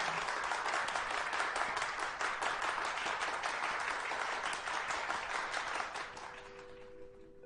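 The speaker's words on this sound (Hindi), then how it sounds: "तालियों से उनका स्वागत कीजिए।" Steady, dense applause from an audience fills the room, then fades down toward the end as the clapping thins out.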